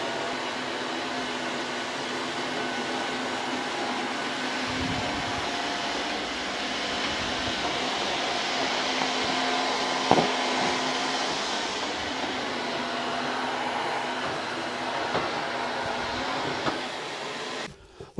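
An EZVIZ RH1 cordless stick vacuum picks up cane sugar spread against a baseboard, giving a steady, loud motor whir that runs unbroken for many seconds, with a brief rattle midway, before switching off abruptly.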